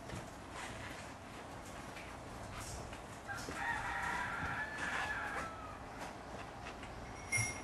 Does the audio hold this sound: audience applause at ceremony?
no